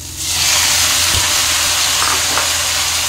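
Leafy greens drop into a pan of spiced potato and papaya and fry, bursting into a loud, close, steady hiss and sizzle with a few light stirring knocks.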